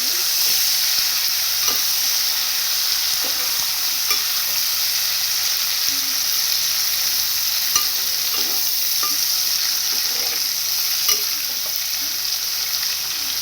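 Egg and dry methalu curry with onions sizzling in a pan under a loud, constant hiss, with faint intermittent stirring scrapes throughout and no talking.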